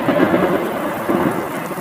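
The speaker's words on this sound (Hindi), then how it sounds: "एक दिन बहुत तेज तूफान आया" Heavy cartoon thunderstorm with steady pouring rain and low rumbling thunder, loud and continuous throughout with no speech.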